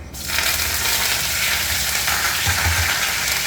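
Steady, loud sizzling and crackling of mustard seeds spattering in hot oil, with faint metallic clinks near the end.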